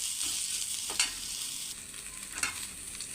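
Black cumin seeds dry-frying in a pan give a steady, close crackle and sizzle, with a couple of brief scrapes from stirring, and no talk.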